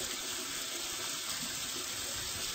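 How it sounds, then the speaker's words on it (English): Cold tap water runs steadily as coffee grounds are rinsed out of a K-Cup under the faucet, a continuous broadband splashing hiss with no pauses and no voices. "wash the coffee or tea grounds out of the K-Cup under cold water"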